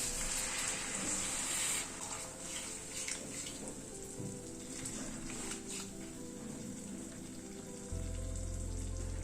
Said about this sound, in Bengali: ছোলেটা এবার একটু ফুটে উঠুক